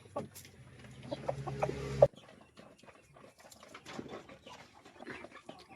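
Chickens on a rural farm, soft clucks and low murmuring calls close by in the first two seconds, then faint scattered sounds and quiet background.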